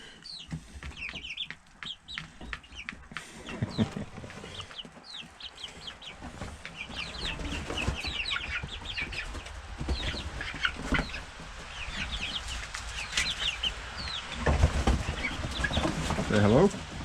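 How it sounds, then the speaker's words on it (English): Chickens cluck and squawk in a homestead coop, with busy overlapping calls and the occasional flap of wings throughout, some up close. "Oh, it's probably my favorite chicken."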